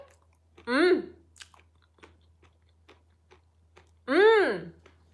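Two distinct crunchy bites of sweet potato sweets with sesame ring out close to the microphone, with small chewing clicks in the quiet gap between them.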